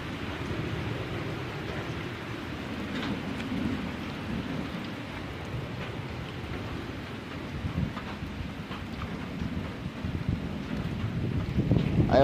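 Severe thunderstorm with steady rain pouring down and low rumbles of thunder, a dense wash of noise that swells slightly toward the end.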